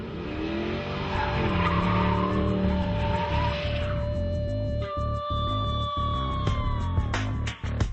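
A 2007 BMW Alpina B7 at a drag strip, its engine roaring loud and close with a sustained tire squeal and rising whine, then sharp gear-shift breaks and revving as it pulls away.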